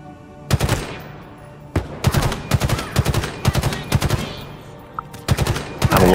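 Rapid automatic gunfire from Halo Infinite weapons rings out in several loud, sustained bursts separated by short pauses, with one brief gap before a final burst.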